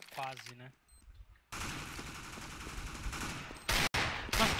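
Counter-Strike match gunfire crackles in dense bursts from about the midpoint on, the rapid shots nearly continuous, with two sharper loud blasts near the end, while a voice speaks briefly at the start.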